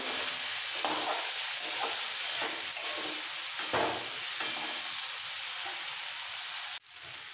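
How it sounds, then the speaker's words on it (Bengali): Bitter gourd and pumpkin for chechki fry together in a pan, a loud, constant hissing sizzle with occasional spatula scrapes, briefly dipping near the end before resuming, with no one talking. "এবার একসাথে খুব ভালো করে ভাজবো"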